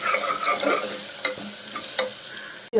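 A spoon stirs tomato with spices and asafoetida sizzling in a hot pan, steady frying hiss with a couple of scraping knocks, close up.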